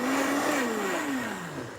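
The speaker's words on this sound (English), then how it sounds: "Let's do one quick blend on that." A kitchen blender whirs loudly and close as it spins water to rinse out leftover vegan gravy, its motor pitch sliding steadily downward as it winds down, with no talk.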